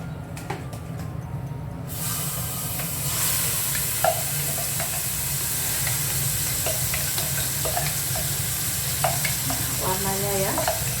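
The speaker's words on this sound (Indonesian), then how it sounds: "minyaknya sudah panas. Ini akan saya masukkan bumbu yang tadi sudah saya haluskan, akan saya masukkan," Ground spice paste for rawon drops into hot oil with a sudden loud hiss that settles into a steady, close sizzle, with scattered spoon clicks and scraping from stirring.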